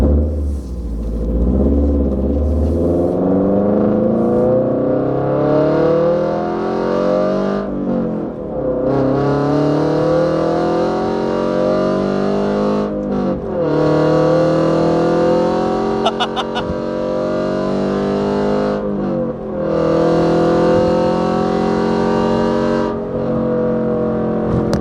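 Aftermarket exhaust on a 2022 Toyota GR86/BRZ with its valves open, a loud, sustained engine note rising and falling through repeated revs, with a few brief dips between pulls and no talk over it.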